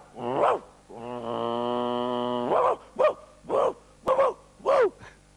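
A voice imitates a German shepherd dog: a deep growl held for over a second, then a run of five loud, punchy barks in quick succession, close and alone.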